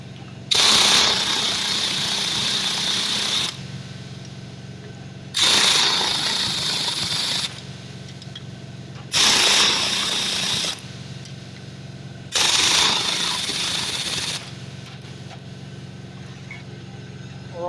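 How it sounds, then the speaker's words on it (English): An air compressor runs steadily in a garage during strut replacement on a Triumph Spitfire, with four loud, sustained bursts of pneumatic tool noise rising over its constant drone. "Air compressor's running."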